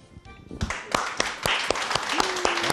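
A studio audience on a Turkish talk show breaks into applause, a run of scattered, uneven claps that builds into steadier clapping, with someone speaking over it.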